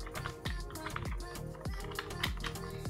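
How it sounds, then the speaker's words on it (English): Someone types on a computer keyboard, a quick run of close, crisp key taps with an uneven rhythm and a few louder strikes, heard without talking. "open up your browser and then type in Photo Pea"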